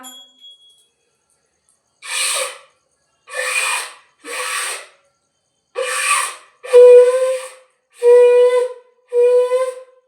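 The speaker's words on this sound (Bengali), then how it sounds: "একটু শঙ্খ বাজিয়ে দিচ্ছি বন্ধুরা" A conch shell blown at a Hindu temple puja in seven separate loud blasts, each roughly half a second long, the last three longer with a steady, clear, horn-like tone.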